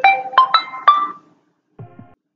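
An incoming call rings on a phone from an Asterisk extension 100, four short bright chiming tones in quick succession, followed after a pause by a fainter lower blip.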